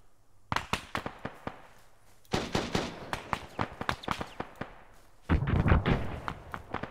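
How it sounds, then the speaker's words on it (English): Gunfire in the military shooter Arma 3, rapid bursts of sharp shots in several volleys, some close and loud and others more distant, with no talking. "we're getting fire from the southwest side"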